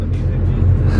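A loud BMW F80 M3 sits close by, its engine and exhaust giving off a steady, heavy roar that fills the whole moment without letting up.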